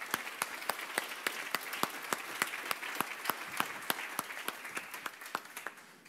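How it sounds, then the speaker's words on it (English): Audience applause at a welcome session of a world forum, a steady patter of many hands with sharp individual claps standing out, moderately distant and fading slightly toward the end. "Let's give it an applause."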